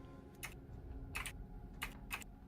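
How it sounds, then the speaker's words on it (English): Typing on a computer keyboard, heard as four short clusters of quick key clicks separated by pauses over a low background hum, with no talking. "I think I can hear you typing"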